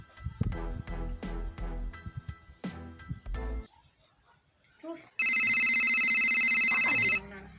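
An old hand-me-down mobile phone rings loudly with a steady electronic ringtone for about two seconds after a stretch of rhythmic music and a brief pause.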